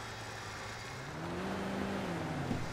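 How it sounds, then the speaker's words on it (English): A car engine in GTA 5 Online rises into a revving whine over steady broadband road noise, holding a climbing tone before easing off near the end. "I'll just hijack this car here."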